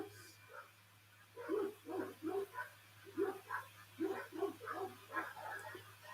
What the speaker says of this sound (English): the dogs are really getting into it